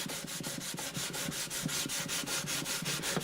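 A wooden acoustic guitar bridge on an Alvarez Artist AD65 being sanded with 800 grit sandpaper, quick rhythmic back-and-forth rubbing strokes, close and steady, with no talk.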